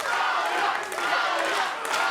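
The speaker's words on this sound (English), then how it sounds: "This crowd here in Miami getting behind Claudia Zamora." A crowd at a Miami combat sports bout, Christina Pettigrew versus Claudia Zamora, roars and cheers loudly and continuously, with shouting voices blending into a dense wall of sound.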